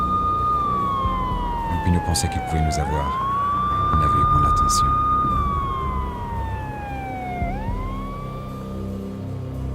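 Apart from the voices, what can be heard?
police sirens approaching, from the video game Max Payne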